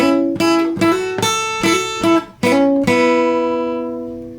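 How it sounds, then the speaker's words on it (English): An acoustic guitar plays the introduction to a song alone, with about six bright, ringing strums and plucked figures in a steady rhythm. The last chord is left to decay. "So if I play the entire introduction to that point"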